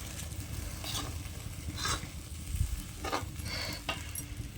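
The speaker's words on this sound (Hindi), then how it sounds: "करछी की मदद से साग और आटे के घोल को अच्छे से मिक्स कर" A ladle stirs nettle saag mixed with flour batter in a kadhai, making a few soft scraping strokes over a low, steady sizzle, heard quietly and without speech.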